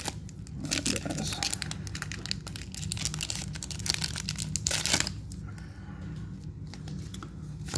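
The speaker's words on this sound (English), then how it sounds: "Using the scissors there." Scissors cut open Pokémon trading card foil packs, giving close, busy crinkling and tearing of crisp wrapper with sharp snips. The sound eases into lighter rustling near the end.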